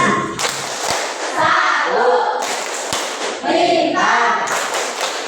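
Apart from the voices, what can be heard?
rhythmic Tepuk Pancasila clapping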